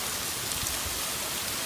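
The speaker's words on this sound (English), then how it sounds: "There's hail and rain and everything." Hail and rain pelting down in a sudden storm beside a neighbouring house, a dense, constant wash of hard drops and patter at close range, with no voices over it.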